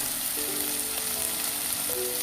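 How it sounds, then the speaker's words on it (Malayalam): Onions with salt sautéing in a pan for a coconut-milk sardine curry, a steady close sizzle throughout with a faint tonal hum running underneath. "സവാള നന്നായിട്ടൊന്ന് വഴന്ന് വരട്ടെ കേട്ടോ"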